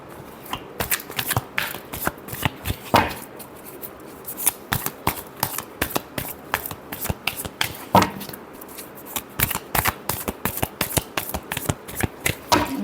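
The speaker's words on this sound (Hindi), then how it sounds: "Last shuffle." Tarot cards shuffled by hand in a steady run of crisp riffling slaps and flicks, close and clear, continuing for several seconds with brief pauses between bursts and no talking over them.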